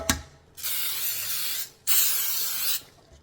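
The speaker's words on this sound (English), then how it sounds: "And this bacon release spray." Two long, loud hissing bursts from an aerosol cooking spray, each lasting about a second, with a brief click just before the first.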